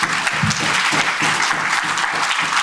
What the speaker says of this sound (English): Let's give them a quick round of applause, please.